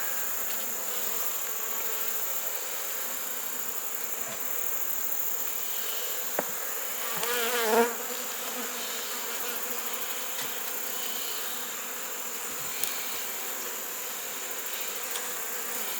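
Honeybees swarm around an opened beehive colony with a steady, dense buzzing hum throughout, a few individual bees droning louder as they pass near, no talk.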